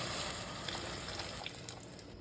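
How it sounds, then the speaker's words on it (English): Hot water poured into a pot of Jamaican brown stew turkey neck: a continuous, even rushing pour that fills the whole clip at moderate loudness, with no talk. "I'm going to come in with some hot water right now."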